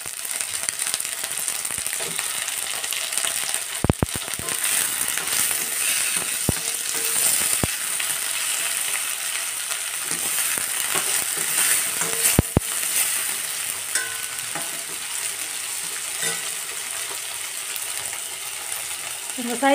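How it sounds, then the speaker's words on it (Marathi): Onion and tomato fry in a kadhai for matar paneer masala, a continuous bright sizzle with occasional sharp clinks of a spoon against the metal pan, and someone speaking faintly over it. "आता यातच आपण कांदा हे सर्व साहित्य छानपैकी फ्राय करणार ना. टोमॅटो हे छानपैकी फ्राय करणार."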